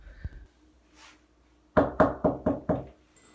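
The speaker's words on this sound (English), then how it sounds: "Sky Robinson takes a deep breath and knocks on the door" Five firm knocks land on an office door at an art institute, evenly spaced and close, following a faint soft thump and a quiet pause.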